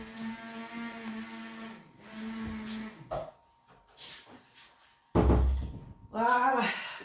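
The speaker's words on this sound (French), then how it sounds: "Attendez, je ferme la porte." A door is pulled shut indoors during a French-language recording, one heavy thunk near the end, with a voice talking before and after it.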